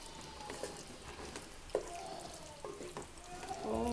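Masala being sautéed in a pan for a homestyle beef curry, a soft steady sizzle with faint scrapes and stirring clicks, plus a brief louder clatter partway through.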